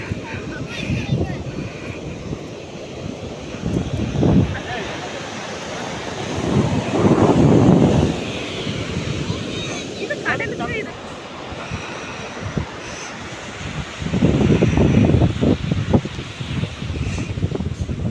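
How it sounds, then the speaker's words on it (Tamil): Waves and gusting wind at Chothavilai beach near Nagercoil, with broad surges of surf rising and falling about every few seconds. Heavy wind buffets the microphone and a low engine drone runs underneath. "நம்ம இப்போ பீச்சோட என்ட்ரன்ஸ்க்கு வந்தாச்சு."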